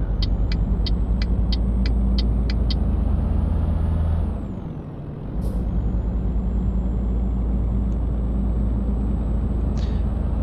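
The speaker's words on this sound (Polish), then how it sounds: "Nasza nowa własna ciężarówka spisuje się bardzo dobrze póki co. Rozpędza się idealnie" A truck in Euro Truck Simulator 2 drives and accelerates with a loud, continuous engine roar, a string of rapid ticking clicks early on, then a brief dip and air-brake hiss before the engine pulls again.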